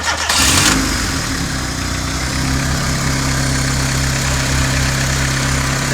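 A turbocharged car engine with an open-dump wastegate cranks and catches with a loud burst, then settles into a steady, rough idle close by with no voices.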